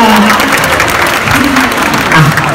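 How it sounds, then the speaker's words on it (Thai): An audience at a L'Oreal Paris anniversary event claps loudly and continuously, with close, dense applause and a few faint voices mixed in. "เสียงปรบมือจากคนที่เธอรักนะครับจะเป็นกำลังใจครับ"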